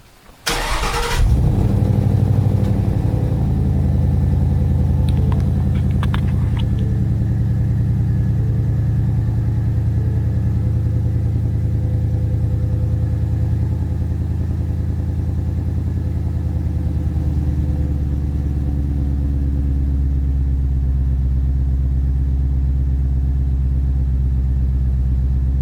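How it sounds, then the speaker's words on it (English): A 2015-2017 Ford Mustang GT, fitted with a new tune and cold air intake, starts cold with a sharp crank and catch, then settles into a loud, steady, deep idle that slowly eases lower, close up, with no talking. "we've completed the tune and the install of the cold air intake on my Mustang GT. This is the first cold start"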